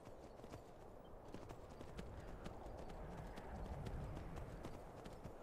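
Horse hooves clip-clopping in a video game, a quiet, steady rhythmic trot that carries on through the whole stretch with a soft background wash.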